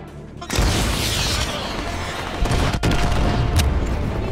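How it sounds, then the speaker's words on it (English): AGM missile strikes in Call of Duty Modern Warfare 2, a sudden loud blast of rumbling, crackling explosions after a short lead-in, holding dense and heavy with a sharp hit near the end. "I repeat, AGM missile is online."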